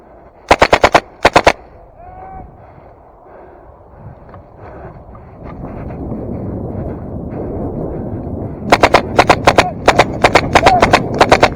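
Airsoft guns fire rapid bursts during a woodland game, sharp clattering volleys near the start and again near the end, with players shouting and talking in between.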